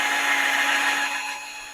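A power drill spins a case trimmer cutting .223 brass cases, a steady close whirring grind that holds for under two seconds and then slowly fades.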